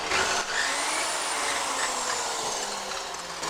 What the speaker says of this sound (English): does anyone else actually like rev their tools, even if they're electric?